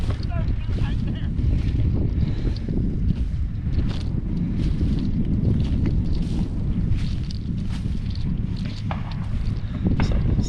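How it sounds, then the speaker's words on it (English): Strong wind buffets the microphone outdoors on a dove hunt, a constant loud roaring rush with gusty noise throughout and faint crackles mixed in. "it is windy out here today"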